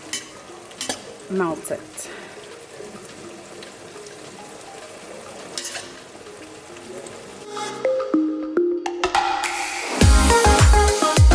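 A spoon stirs and scrapes through food in a hot pan with soft sizzling and frying, intermittent clinks, then louder sizzling as meat is added near the end; someone speaks briefly over it.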